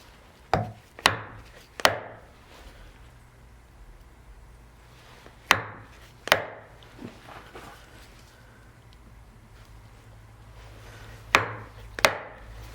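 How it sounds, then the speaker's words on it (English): Repeated crisp wooden strikes of a chisel chopping into wood, coming in pairs and small bursts separated by quiet gaps, close and fairly loud. "You can hear the first crack is like clack, and the second one is a boom."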